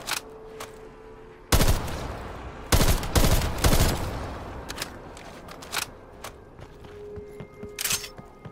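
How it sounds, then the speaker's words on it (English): Gunfire in a zombies video game: scattered single shots, then loud close bursts of several rounds, followed by lighter intermittent shots and clicks, with no talk. "Who are you shooting at?"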